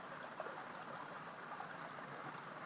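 Water flows steadily along a stream, a continuous broadband rush with no break in level and no voices over it.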